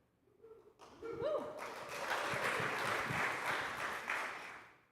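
A church congregation at its annual meeting breaks into steady applause, many hands clapping together in a sustained, moderately loud wash that starts after a brief murmur and dies away at the end.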